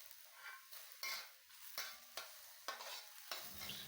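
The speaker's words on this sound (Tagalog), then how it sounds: "Maglagay na rin tayo ng hiniwang sibuyas." Sliced onions sizzle and hiss in a pan while being stirred, with soft scraping strokes repeating every half second, cooked on their own with no talking.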